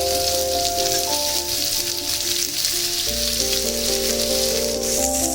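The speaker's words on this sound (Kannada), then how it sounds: "ಎಣ್ಣೆಯಲ್ಲಿ ಹುರಿದು, ಆಮೇಲೆ ಈರುಳ್ಳಿ ಹಾಕೋತಾ ಇದ್ದೀವಿ." Onions frying in oil for a spiced toor dal uppittu give a steady, close sizzle, partly masked by music with sustained tones throughout.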